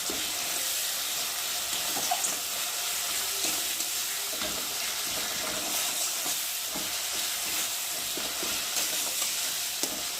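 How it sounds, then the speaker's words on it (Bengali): Mustard paste fries in a pan for a pabda fish curry with mustard and poppy seed, giving a loud, continuous sizzle that hisses evenly throughout with faint stirring underneath. "তো হালকা করে ভেজে নেবো সর্ষেটা"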